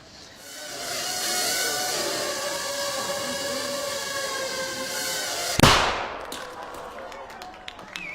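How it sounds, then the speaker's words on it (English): A tiny shaped charge holding about 3 grams of explosive goes off with one sharp, close bang that ends in a brief crackling tail, following a sustained tonal whirring hum. "That little bang is enough to penetrate the skull and destroy the contents."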